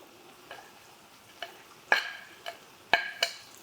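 Onions, peppers and celery frying with bacon in a pan, quiet sizzle broken by several sharp stirring clicks and scrapes spaced about half a second to a second apart.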